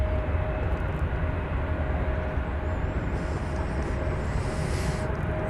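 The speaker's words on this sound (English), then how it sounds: "So we've got 3 planes. They're getting ready to take off." Jet engines rumble steadily at DFW Airport as several planes prepare for takeoff, a broad continuous roar with a faint high whine rising near the end and no talking.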